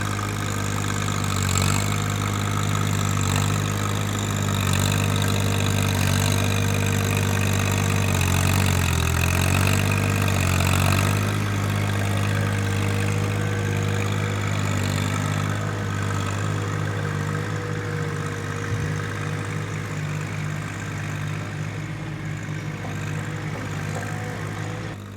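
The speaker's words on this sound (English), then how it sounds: "Ryan's 1025R seems to be running just fine here." A John Deere 1025R compact tractor's diesel engine runs steadily at high altitude, a loud, even drone with a brief dip in pitch partway through, close and without talk.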